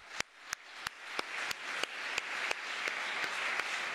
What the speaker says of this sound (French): Donc je pense qu'on peut encore l'applaudir.